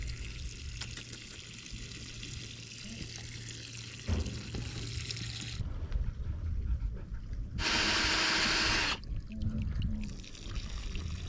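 Water gushes out in a steady hissing pour on an off-grid dairy goat farm in central Portugal, with a louder, bright rushing burst in the middle before settling back to a softer stream.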